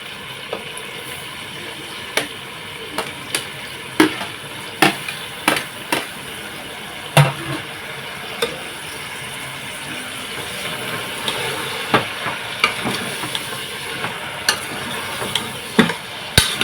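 Chicken pieces and tomatoes stir-fried in a pot, with a steady sizzle and repeated sharp scrapes and knocks of a spoon against the metal at an irregular rhythm, close by.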